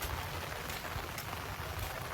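Steady rain falls outdoors near a bicycle shop in Kilinochchi, Sri Lanka, a faint, even hiss of drops with a few soft taps and no voices.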